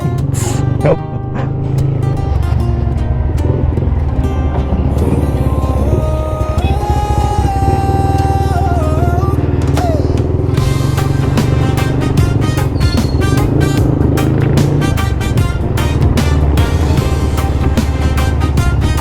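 A motorcycle engine runs steadily and loudly throughout on a zigzag road in Masbate, with a constant droning rumble and some shifting tones over the top.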